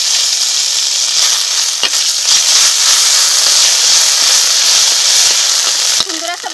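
Cumin and ginger paste hit hot mustard oil in a kadai already holding dried red chillies, a bay leaf and panch phoron, giving a loud, continuous hissing sizzle with a brief clatter near the end.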